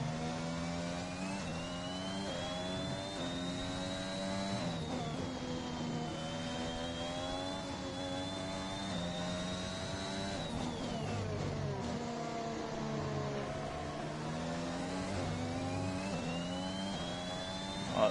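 High-pitched F1 racing car engine in F1 2021 gameplay, a steady sustained whine with shifting pitch as the car accelerates and downshifts, loud and continuous throughout with no talk.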